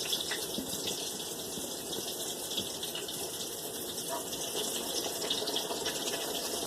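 Two old-fashioned apple hand pies frying in very hot oil, giving a steady, even crackling hiss that carries on without a break and with no voices.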